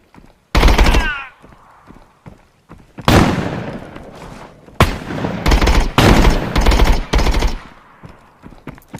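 Automatic gunfire from a scav in a shooter video game: several loud bursts of rapid shots, the first short, then longer sustained volleys separated by brief gaps, close and harsh with no talking.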